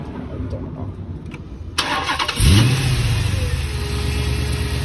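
A Chrysler 300 SRT8 fresh from an oil change starts up nearby, the starter's brief whine catching into a loud rising rev that settles to a steady idle with a faint whine.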